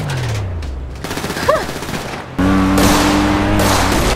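Dense bursts of rapid gunfire crackle in a game, with engine-like hum and other effects layered in, loud and continuous.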